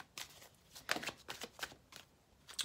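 Tarot cards being shuffled during a reading, a series of crisp riffling bursts and soft slaps close by, with short pauses between them and no talking.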